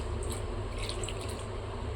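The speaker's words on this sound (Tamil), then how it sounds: "இப்போ கொஞ்சமாக தண்ணி ஊற்றிக்கலாம்." Water trickles and splashes as it is poured into flour while making omapodi dough, a short, close, steady liquid pour with no talk.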